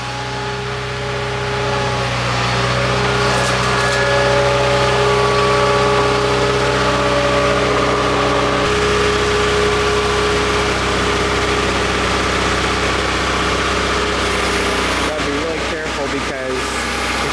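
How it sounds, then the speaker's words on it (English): A skid loader engine runs steadily at a farm greenhouse with hanging baskets, a continuous close, loud mechanical drone with tonal hum and a brief shift in pitch toward the end. "So Dad's here with the skid loader now."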